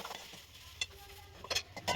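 A spoon stirs a dry eggplant (brinjal) vegetable dish as it cooks, making faint scraping and soft ticking sounds with a few louder clinks over a low sizzle.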